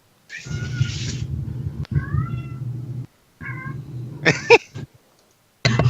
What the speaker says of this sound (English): cats want out, but they're making a lot of noise